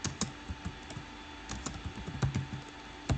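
Someone types on a computer keyboard, a close, quick, uneven patter of key clicks with no talking.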